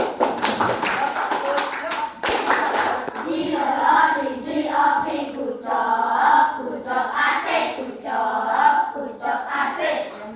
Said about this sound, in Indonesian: Ada Keitaro, kita berikan tepuk pucuk